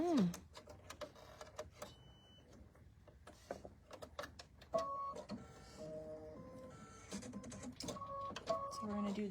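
A sewing machine stitches a quilting pattern into a heart on a fabric coaster, giving a quiet, steady mechanical whir and clatter in short runs, with a person talking over it.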